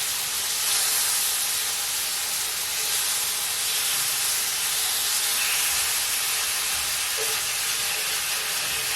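Bacon sizzles steadily in a freshly seasoned pan, a dense, continuous hiss that holds at the same loudness throughout with no talk over it.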